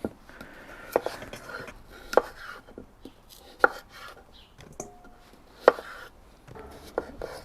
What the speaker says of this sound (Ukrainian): ріжемо картоплю невеличкими скибочками, як на картоплю по-селянськи